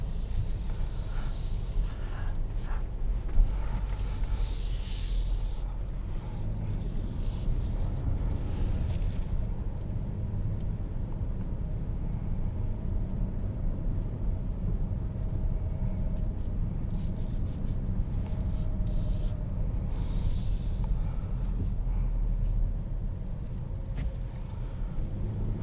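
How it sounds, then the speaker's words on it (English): Inside a 2021 Kia Sorento SX Prestige X-Line rolling down a hill, a steady low road and engine rumble carries on with a constant hiss of tire and wind noise, a few brief louder swells but no talk. "let's go for a drive in the 2021 Sorento"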